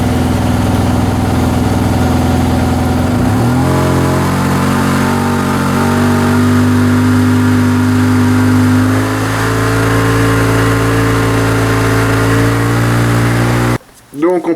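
Yamaha TMAX 2008 scooter engine held at raised revs around 4000-5000 rpm, a steady loud mechanical drone with a pitch step upward early on, then sustained before cutting off abruptly near the end, with talk over it.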